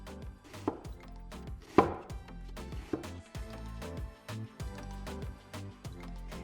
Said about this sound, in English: I'm going to slice the onion very thin.